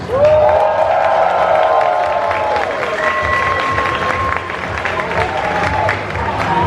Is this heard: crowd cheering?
yes